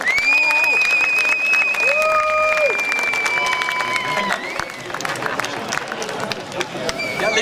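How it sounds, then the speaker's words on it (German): Crowd applause and cheering at an outdoor lesbian-gay park festival in Volkspark Friedrichshain, Berlin, steady and dense throughout, with a loudspeaker voice and tonal sounds over the clapping. "Einen großen Applaus"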